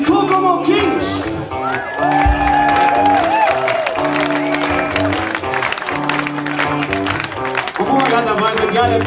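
Concert crowd at a blues night applauds the band, with clapping, whoops and shouts mixed under lingering stage music and voices.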